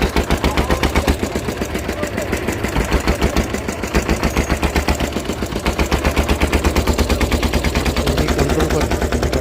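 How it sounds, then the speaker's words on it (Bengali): A motor boat engine powers a wooden village boat carrying people between villages. It gives a loud, close, steady rapid thumping pulse that runs without a break the whole time. "ইঞ্জিনটা দিয়েই স্টার্ট করবে, তারপর চলবে পুরো নৌকা"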